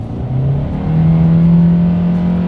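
A 2021 Hyundai Accent small car accelerates hard from the cabin, its engine note climbing steadily as the revs wind up, loud and continuous with no talking.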